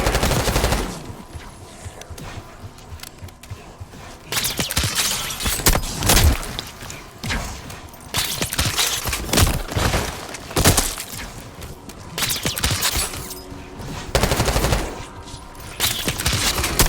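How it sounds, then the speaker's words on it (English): Bursts of automatic gunfire and single shots from lower floors in Call of Duty Black Ops 6, rapid cracking volleys that stop and start over a low rumble, with no talking. "You hearing gunfire?"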